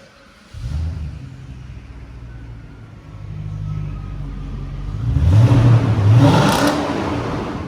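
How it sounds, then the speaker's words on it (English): An Audi A6 4.2 V8 idles and is revved, the engine rising in pitch and loudness through a couple of throttle blips, close up with no talk. "I'll give her some revs before we get this stuff done, so we can kind of get it before and after"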